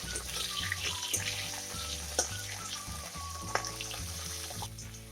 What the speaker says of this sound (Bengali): আলুগুলোকে হালকা ভেজে নিতে হবে।